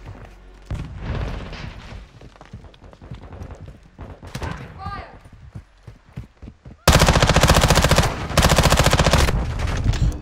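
Hipfire weapon in Call of Duty: Modern Warfare 2 multiplayer: a player talks first, then loud, dense automatic gunfire bursts in and dominates the final few seconds.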